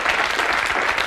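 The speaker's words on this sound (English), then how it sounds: "Thank you for that spontaneous" Studio audience at a 1994 sketch comedy show claps in a full, loud, even roar of many hands, with no voices over it.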